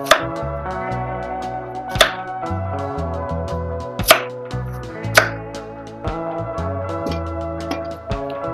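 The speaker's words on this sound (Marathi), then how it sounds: "एका रताळ्याचे 3 ते 4 तुकडे करून घ्यायचे" A knife chops a sweet potato into chunks, making a few sharp, widely spaced strikes on a board about every one to two seconds, heard under steady background music.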